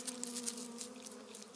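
Honeybees buzz in a steady, sustained drone that stays close and fairly even for a moment, with no voices present.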